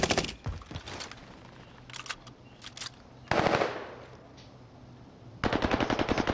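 Bursts of automatic gunfire in a multiplayer shooter game, with several short volleys early on, a heavier close burst near the middle and a sustained rapid stream of shots at the end.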